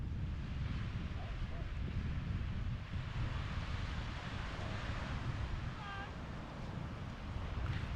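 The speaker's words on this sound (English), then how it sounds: "purely because of the sound of the sea. It's so soothing and calm" Sea waves wash steadily onto the beach at Flamborough, a soft, continuous hiss of surf mixed with wind rumble, faint and even with no distinct breaks.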